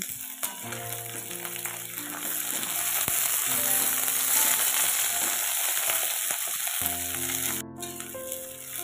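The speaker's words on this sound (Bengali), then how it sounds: "আলু আর বিনস কড়াই নেড়ে চেড়ে আমি একটু হালকা লালচে ভাব করে ভেজে নিয়েছি" Potatoes and beans fry in a kadai, making a soft continuous sizzle with faint rattling stirs close by, and a short sharp clatter near the end.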